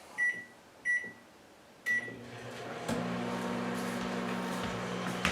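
A microwave oven melting food: three short beeps as it is set, a door or button clunk, then the steady hum of the oven running close by.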